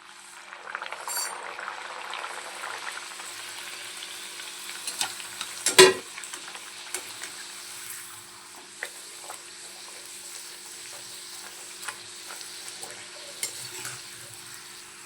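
Quiet sizzling of pea kachoris deep frying in oil in a kadai, with a sharp clank of a utensil partway through and faint stirring sounds.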